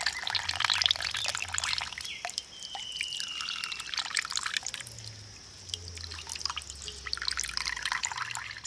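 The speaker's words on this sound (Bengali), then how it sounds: "এবার ভালো করে আমি ছানা থেকে জলটা ছেঁকে নেব।" Whey drips and trickles from fresh chhena strained through cloth while making sandesh. A steady patter of drops and thin streams sounds close and soft throughout.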